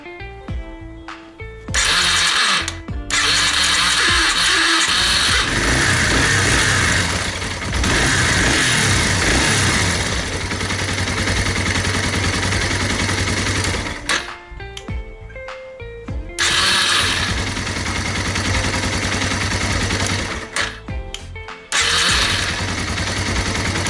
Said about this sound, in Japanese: セルモーターの調子がよくありません。